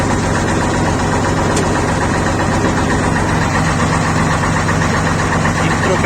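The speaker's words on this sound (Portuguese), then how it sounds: "Olha o ronquinho agora, vai diminuir aquele barulhão" Truck engine idling with a newly fitted muffler, a loud, steady close-up rumble with an even throbbing pulse and a faint mechanical knock.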